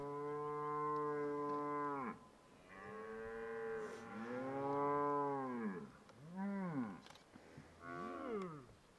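Cattle moo several times in a row on a Namibian road, long drawn-out calls with rising and falling pitch, fairly close and clear, with short gaps between them and no talk.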